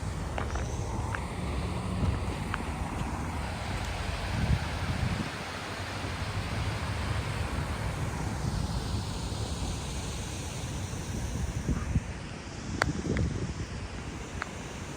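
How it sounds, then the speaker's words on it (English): A small waterfall beside a main street in Las Vegas gives a steady broadband rush of falling water, continuous and moderately close, with faint rustling and passing noise mixed in. "There's a little waterfall."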